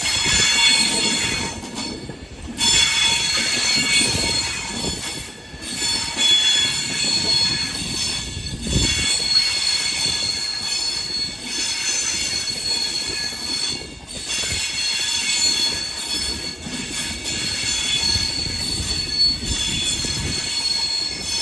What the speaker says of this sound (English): Depart now is a AVANTI West Coast service 139154 off to London Euston from Glasgow Central.